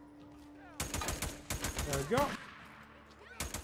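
Enemy gunfire in the Days Gone video game cracks in repeated sharp bursts and scattered single shots, loud and close, while someone talks over the shooting.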